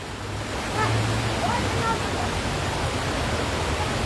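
Floodwater roars down a newly formed river channel at Panetonga in North Sumatra, a loud constant rushing wash of turbulent water filling the scene, with a voice faintly present underneath.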